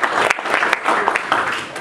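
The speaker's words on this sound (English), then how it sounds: "we should give Mario a round of applause" Dense audience applause at a Mobile Monday Silicon Valley tech meetup honoring a longtime organizer, steady and fairly close, filling the whole stretch with no voices over it.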